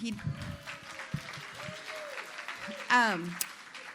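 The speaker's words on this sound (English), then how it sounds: "can we give Jose a round of applause?" Attendees at a morning business networking event clap for a presenter, a light, quiet round of applause mixed with voices and murmuring, plus a sharp squeak or feedback burst near the end.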